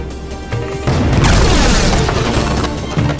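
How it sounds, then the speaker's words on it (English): A cannon fires in Skylanders: Spyro's Adventure, a loud booming blast that swells and rolls on for a few seconds with a rumbling, crashing tail. "Use the action button to fire the cannon."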